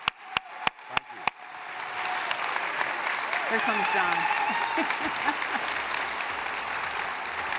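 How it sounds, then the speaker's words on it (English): A few sharp, separate claps swell into sustained applause from an event audience honoring a guest speaker, dense and steady for several seconds while someone talks over the start. "Everyone, join me in giving a round of applause for Don."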